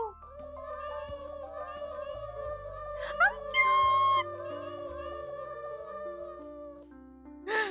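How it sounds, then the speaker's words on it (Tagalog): A cat meows in the game Ship Inc, a few clear tonal meows over bright background game music, followed by a short spoken exclamation. "uy, may pusa, there's a cat. Meow!"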